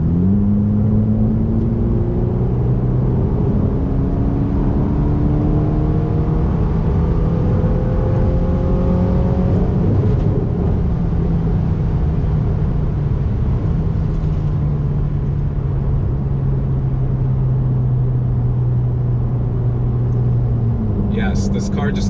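A Ferrari Roma engine revs hard and accelerates close by, its pitch climbing and dropping through several gear changes under a constant roar.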